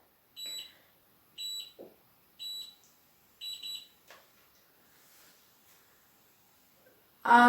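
Four short, high-pitched electronic beeps from an automatic hair curler in a regular pattern, separated by quiet pauses, followed by faint handling noises and a brief thump at the end.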